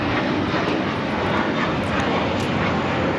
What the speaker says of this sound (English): American Airlines 1658 taking off to Dallas-Fort Worth on the A321